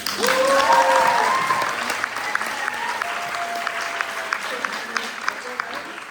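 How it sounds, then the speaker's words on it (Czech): Audience applause at a performance by an adult group, a sustained burst of clapping that fades over several seconds while a voice and crowd murmur carry on beneath and after it. "Tak prosím potlesk."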